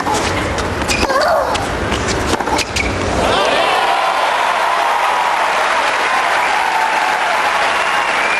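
Tennis crowd at a women's final in Dubai breaking into applause after a second ace, starting with sharp impacts and voices, then swelling into steady, loud, sustained clapping that fills the space.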